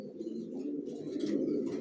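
Racer pigeon squabs in a loft give a soft, continuous throaty cooing, close and low, with a few faint chirps above and no talking.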